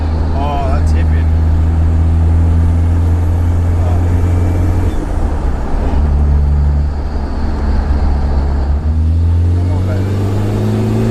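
A Toyota Surf's 2L-TE diesel engine drones steadily on the road, its low tone rising as it accelerates, loud and close inside the cabin, with someone speaking briefly over it.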